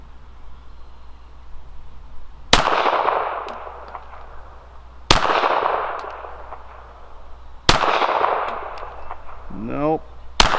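Three sharp, loud pistol shots from a Beretta 80X Cheetah .380 ring out at roughly even intervals outdoors, each followed by a decaying echo, with a brief chirpy sound near the end.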